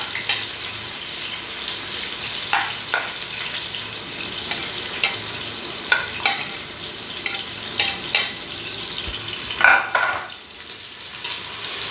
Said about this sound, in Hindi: मैं इनको गोल्डन होने तक 2 से 3 मिनट इनकी भुनाई करता हूँ